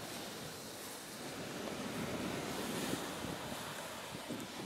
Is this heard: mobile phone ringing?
no